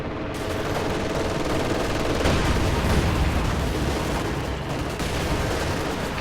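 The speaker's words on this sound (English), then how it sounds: "Katyusha firing." A Katyusha rocket launcher fires in Company of Heroes 2, a dense, sustained roar of rapid launches and blasts that stays loud and continuous throughout, with no talk over it.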